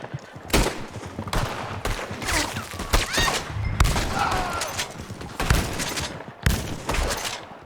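Sharp gunshots in Red Dead Online, from a .22 rifle, several separate cracks spaced irregularly over a busy outdoor game ambience.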